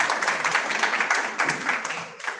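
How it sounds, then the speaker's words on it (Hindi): Audience clapping at a farewell ceremony after a stage performance, a dense, steady patter of many hands that swells and dips slightly across the brief burst without a pause. "एक बार फिर से जोरदार तालियां हो जाए इस प्रस्तुति के लिए।"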